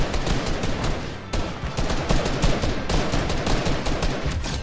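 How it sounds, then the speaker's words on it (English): Rapid gunfire and grenade blasts from the video game Fortnite crackle continuously and loudly, with dense bursts of shots and a brief dip before the firing resumes. "I'm throwing the nades."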